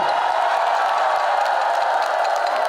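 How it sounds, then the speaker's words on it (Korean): Dense, steady applause from a large crowd at a Buddhist Diamond Sutra prayer gathering at Woljeongsa temple on Odaesan, a continuous wash of clapping that holds at full strength throughout with no voices on top. "큰 박수 부탁드립니다."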